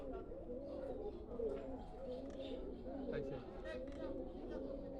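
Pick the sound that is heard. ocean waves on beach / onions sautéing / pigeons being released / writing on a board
pigeons being released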